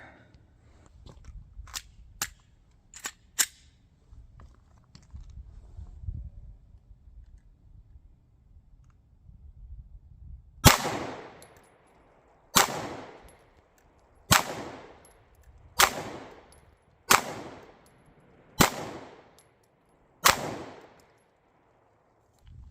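A Smith & Wesson SD9 2.0 9mm pistol fires eight loud, sharp shots at a target, spaced about one to two seconds apart. Faint clicks and handling noises come before the shots.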